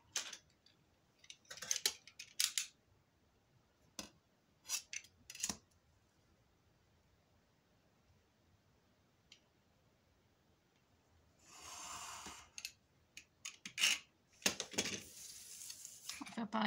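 Scissors trim excess paper card in a mini album made from a cereal box, with a few short, crisp snips spread apart and soft rustling, faint and close, and a voice speaking briefly.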